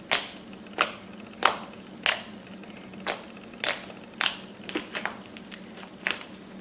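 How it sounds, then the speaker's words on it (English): Homemade clicky slime is squeezed and popped up close, giving about a dozen sharp, crisp clicks at a fairly steady pace. A quick cluster of smaller pops comes near the end, with no talking over it. "Let me just show you how clicky this slime is."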